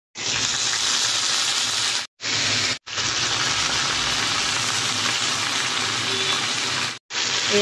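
Curry leaves being sautéed in a pan for a thuvaiyal, giving a loud, steady sizzle close by that cuts off abruptly a few times.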